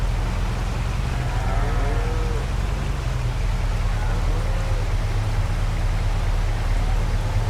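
Cattle mooing in Farming Simulator 22 in a few drawn-out calls over a steady low engine-like hum and constant background noise.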